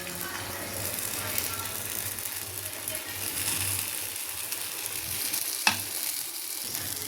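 Sweet paniyaram batter sizzles and fries in a 12-hole paniyaram pan beside a savoury batch, a steady close crackling frying sound with a sharp clink partway through.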